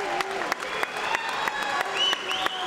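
Applause for a boxing bout at a professional boxing gala in Falkensee, steady crowd clapping at moderate distance with a few sharper claps, under an announcer's voice talking over a PA.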